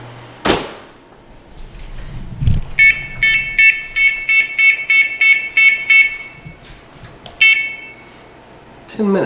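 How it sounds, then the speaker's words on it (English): A kitchen oven timer beeps in a quick, regular series of sharp electronic tones, loud and close, followed by a brief final burst; clatter and thumps come before it. "our timer had gone off"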